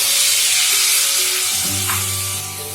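Boiled Maggi noodles hit a hot pan and sizzle loudly and steadily, a bright continuous frying hiss with a low hum beneath and a brief stir near the end.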